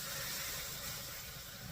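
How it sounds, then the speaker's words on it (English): A pot of boiling water for canning potatoes gives a soft, continuous bubbling hiss, quiet and even throughout. "Okay, so now the water is boiling."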